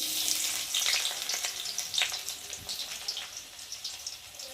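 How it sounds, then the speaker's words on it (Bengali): Onion tempering sizzles in hot oil in a pan, a dense, steady crackle and spatter with scattered pops, close and fairly loud, alone with no talking. "তার জন্য ফোড়ন দিচ্ছি, দেখতে পাচ্ছ পেঁয়াজ ফোড়ন"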